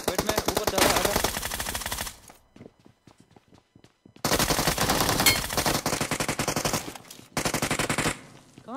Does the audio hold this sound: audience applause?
no